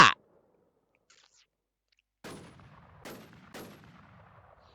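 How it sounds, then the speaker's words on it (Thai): Gunfire in a sniper-focused shooter video game: one sharp shot at the start, then after a quiet gap three louder reports about a second apart, each trailing off in a short echo. "มันยิง มันยิงไอ้เฮีย"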